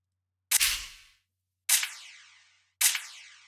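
Three sharp gunshot effects for a drill beat ring out one after another, each a loud crack trailing into a fading, echoing tail.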